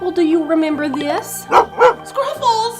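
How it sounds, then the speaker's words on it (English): A cartoon dog named Scruffles gives a few short, sharp barks close by, woven between and after a person's speaking voice. "Oh, that's my dog Scruffles!"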